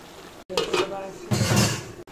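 Stirring a fish and bottle gourd curry with bata fish and green chillies in a pan, utensil scraping and clinking against the metal in two short bursts, close and moderately loud, with no voice over it.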